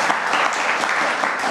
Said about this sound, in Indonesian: Tepuk tangan dong kita buat timnas kita dong.